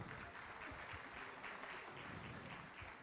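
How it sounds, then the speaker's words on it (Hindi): Audience clapping steadily throughout at a political rally over workers' rights, a dense, continuous roar of hands with no clear pauses. "जोरदार तालियां बजाओ भाई"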